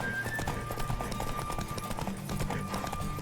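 Hooves clip-clop steadily from a horse in The Witcher 3: Wild Hunt, a close, rhythmic trot under game music with a sustained tone running through, and a faint whinny-like sound mixed in.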